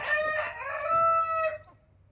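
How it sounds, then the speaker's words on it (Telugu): A rooster on a poultry farm crows once, close and clear, a drawn-out cock-a-doodle-doo lasting over a second before fading into quiet. "రోహిత్ కోళ్ళ ఫామ్"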